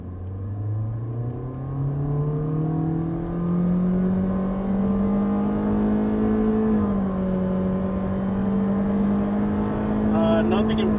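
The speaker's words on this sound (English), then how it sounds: "We're in sport mode, and we're just gonna floor it." A 2024 Honda Civic Sport with a 2-liter four-cylinder accelerating from a standstill at full throttle in sport mode, heard from inside the cabin: a loud, steadily rising engine drone, a brief dip at a gear change, then climbing again.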